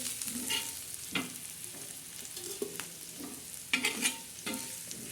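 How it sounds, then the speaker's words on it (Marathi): A spoon scrapes and stirs dried shrimp (sukat) into a chutney mixture in a pan, giving intermittent close scraping strokes and soft clatter over a faint sizzle, with no talking. "आता त्याच्यावर आपण सोडणार आहोत सुकट हे असं सर्व मिक्स"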